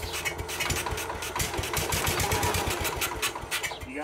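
An old tractor engine grinds over on its starter in a fast, even chug of mechanical beats, close and steady for several seconds, with a sharper clatter layered above the low pulsing.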